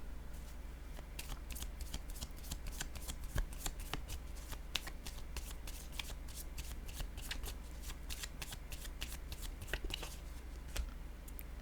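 Playing cards shuffled and drawn, with quick runs of crisp riffling snaps and flicks close by, faint and continuous, and no talk.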